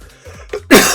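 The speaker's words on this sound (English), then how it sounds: "you're coughing, choking on these nuts" A sudden harsh cough bursts out at the end, loud and close, after faint low background sounds, as someone chokes on nuts.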